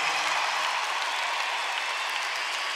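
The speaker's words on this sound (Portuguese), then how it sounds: "Uma grande salva de palmas a todos vocês por estarem aqui esta noite." Concert audience applauding steadily and loudly throughout, a dense wash of clapping from a large crowd at a live show with the Orquestra das Beiras.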